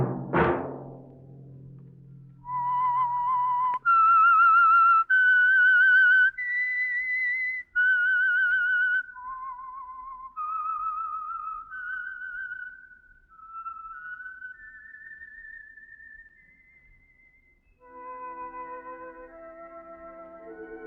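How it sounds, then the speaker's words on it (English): Whistled theme signal of The Whistler radio program from 1947, a lone clear melodic whistle rising and falling through a slow eerie tune, held notes with brief gaps, loud and alone. "Let that whistle be your signal for the Signal Oil program, The Whistler."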